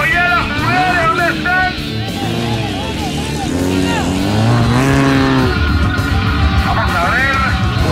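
A 4x4 car on 24-inch luxury rims and low-profile tires accelerates flat out on a race track at La Peana, Veraguas, Panama, its engine loudly and continuously revving up and down, with tire noise.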